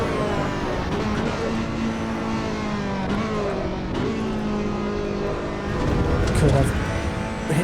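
Race car engine in the Assetto Corsa EVO racing game, driven around a track: a continuous droning engine tone that rises and falls with acceleration, gear shifts and braking, with a voice murmuring faintly underneath.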